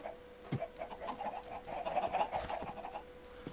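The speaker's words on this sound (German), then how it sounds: "Hier haben wir noch ein paar Hühner." Chickens clucking in the Minecraft video game, soft scattered clucks over a steady low hum and faint background noise, fairly quiet throughout.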